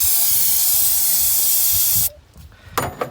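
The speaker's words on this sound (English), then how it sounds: "I'm going to give it a bunch of the starting fluid" Starting fluid sprays from an aerosol can into a 1970 Ford Fairlane engine, a loud continuous hiss for about two seconds that cuts off abruptly, followed by faint rustling and a short clatter.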